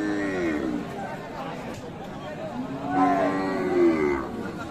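Cattle at a busy village livestock market, two drawn-out moos close by, one early and one near the end, with crowd chatter and bargaining voices all around.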